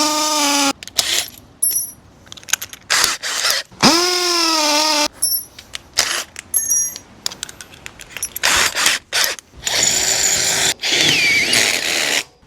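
Power drill widening existing holes during an outdoor kitchen build, running in repeated close bursts that start and stop, with the motor pitch rising and falling as the trigger is worked.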